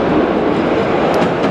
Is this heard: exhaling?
no